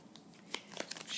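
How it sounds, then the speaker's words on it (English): A deck of cards gets a quick, sloppy shuffle during a tabletop game, a brief run of soft crinkly riffles and taps, close and quiet. "Shuffle up the cards."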